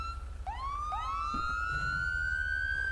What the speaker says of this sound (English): Just turn my siren on.